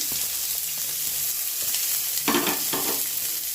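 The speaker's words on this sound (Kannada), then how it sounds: "ಇದೀಗ ಸ್ವಲ್ಪ ಫ್ರೈ ಆಗಬೇಕು. ಇಷ್ಟು ಫ್ರೈ ಆದರೆ ಸಾಕು." Curry leaves and chopped onion frying in a pan, a steady close sizzle with a couple of louder bursts of crackle as they are stirred, no voices.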